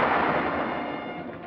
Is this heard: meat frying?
no